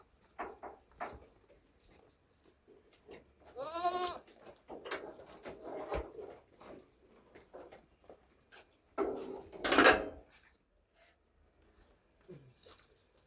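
Goats and sheep bleat on a family farm homestead, several separate calls, some drawn out and wavering, from moderately close range, with quiet farmyard noise between them and a brief louder burst near the end.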